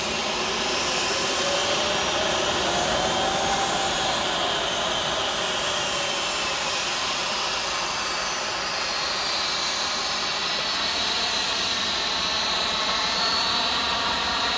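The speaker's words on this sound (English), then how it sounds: "What a stunning aircraft." Virgin Atlantic airliner jet engines, a continuous loud roar with a rising whine, steady and sustained throughout with no talk.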